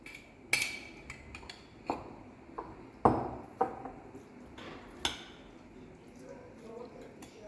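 A spoon stirs a salad of chicken hearts, pickled cucumbers and eggs dressed with mayonnaise in a dish, giving a series of sharp, irregular clinks against the bowl with quiet soft scraping in between.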